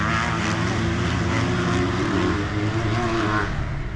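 Motocross dirt bikes with factory engines race on a track, giving a dense, continuous engine roar and buzzing whine that stays loud and steady throughout with no talk.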